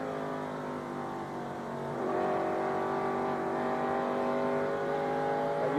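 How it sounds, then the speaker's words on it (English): Rusty Wallace's NASCAR race car engine at the 1991 GM Goodwrench 500 drones steadily with a sustained rising whine around halfway through, mixed with other cars, unbroken and loud throughout. "if you've been listening to Rusty's engine"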